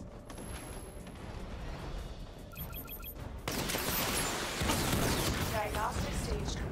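Missile barrage in Batman: Arkham Knight, a quieter stretch with mechanical beeps that breaks into a loud, dense roar of rapid launches and explosions, with a voice speaking over it.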